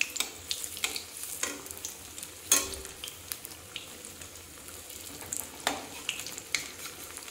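Cheese bread pakora fries in hot oil while more oil is spooned over the top, giving a steady close sizzle with frequent crackles and sharp pops.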